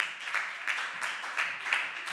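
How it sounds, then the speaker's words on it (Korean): Church youth congregation applauding new members at a Sunday worship service, a steady wash of many hands clapping with slight swells in intensity, continuous through the moment without talk. "박수로 맞이하겠습니다"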